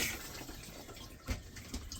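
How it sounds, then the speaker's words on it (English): A caravan chemical toilet flushes with a soft rush and trickle of water swirling down, fairly quiet and close, with a couple of small gurgling pulses. "over the back here is the flush button. You just basically press that button,"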